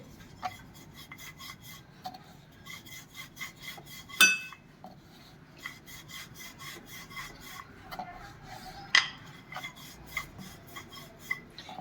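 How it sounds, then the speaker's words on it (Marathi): Puran poli dough being rolled out by hand on a board, giving a steady rhythmic rasping rub with a few sharper clicks and taps. Close and fairly quiet, with no voices. "अलगद हाताने आपल्याला ही पोळी लाटून घ्यायची आहे"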